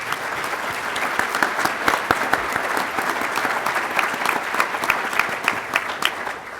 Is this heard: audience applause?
yes